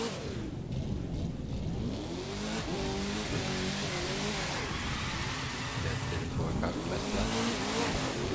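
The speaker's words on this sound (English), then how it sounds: "Let's try to heat up the tires first." In The Crew 2 racing game, a race car warms its tyres with continuous loud engine revving that swoops up and down in pitch, mixed with tyre squeal throughout.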